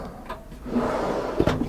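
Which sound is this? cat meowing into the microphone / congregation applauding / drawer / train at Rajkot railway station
drawer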